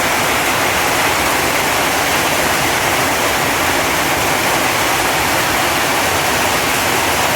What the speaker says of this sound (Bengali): তো দেখেন কি পরিমাণে বৃষ্টি হইতেছে ধারায় বৃষ্টি হইতেছে অনেক অনেক বৃষ্টি হইতেছে